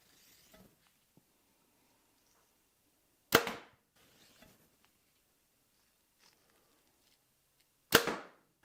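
Two sharp arrow releases from a 2025 Hoyt Alpha AX2 compound bow, each a crisp snap and thump with a short tail, spaced several seconds apart amid faint handling noises.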